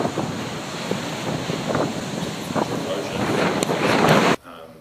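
Ocean waves wash along the eroding coast at Timaru, a broad steady roar mixed with wind buffeting the microphone, cutting off abruptly near the end.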